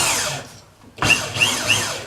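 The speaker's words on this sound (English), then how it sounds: "So I got this 1/2-inch Milwaukee drill on here." A Milwaukee 1/2-inch drill spins the motor of an electric wood splitter, its whine dipping off and then spinning back up loud and close, with rhythmic surges in the pitch.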